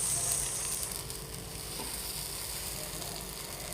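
Onion dosa batter spread thin on a hot pan gives a steady, soft hiss that holds evenly throughout with no voices over it.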